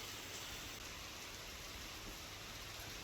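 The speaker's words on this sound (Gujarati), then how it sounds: "ભારે પવન અને ગાજવીજ સાથે વરસાદ ખાબક્યો છે" Rain falls in South Gujarat during a storm with heavy wind, a steady, even hiss of drops with no breaks and no voices, fairly soft throughout.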